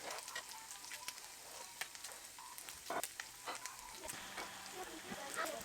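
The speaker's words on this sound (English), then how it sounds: "As you see, all the fat is rendering out" Pork frying in a pan on a stovetop over medium heat, fat rendering out with a steady close sizzle and scattered pops and crackles throughout.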